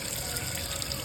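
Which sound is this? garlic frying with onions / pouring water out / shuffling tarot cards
pouring water out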